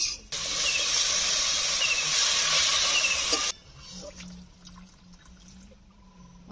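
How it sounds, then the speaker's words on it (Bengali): Water poured over potatoes cooking with turmeric and chili in a hot pan sets off a loud, rushing hiss for about three seconds. It then drops sharply to a quiet simmer with faint crackles. "আমি উপর থেকে জল দিয়ে দেবো।"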